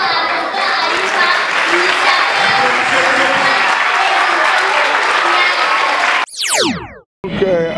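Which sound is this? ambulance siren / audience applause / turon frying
audience applause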